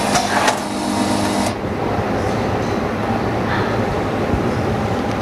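A large automatic OCA/polarizer film laminating machine with a built-in vacuum pump runs steadily, a dense mechanical whir and hum with a brighter clattering burst at the start that settles into a continuous drone.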